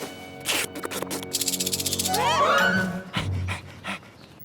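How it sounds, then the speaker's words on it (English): Cartoon dog panting in quick, rhythmic huffs, close and fairly loud, followed by a rising whine-like squeal and a few short thumps before fading. "But he's a dog."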